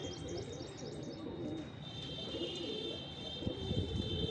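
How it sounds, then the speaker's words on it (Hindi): Pigeons coo softly in low, repeated throaty calls, with a few higher chirps, set against a steady background hum and faint rustling. "कितने कबूतर आ रहे हैं देखो"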